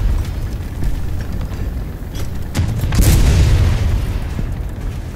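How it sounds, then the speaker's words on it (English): In War Thunder, a tank cannon fires and its shell explodes, giving a sharp report followed by a heavy, rolling boom a moment later under steady background rumble. "A shot."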